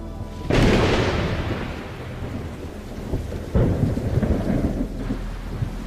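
A thunderstorm with heavy rain over a dry savanna at the onset of the wet season: a loud rolling thunderclap swells early, steady downpour hisses throughout, and a second rumble breaks in later.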